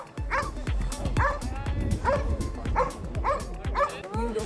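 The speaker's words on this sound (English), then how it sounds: "Look at those dogs." Several fluffy dogs gathered outdoors in Oslo let out repeated yips and barks in quick bursts, fairly close, with people chatting underneath.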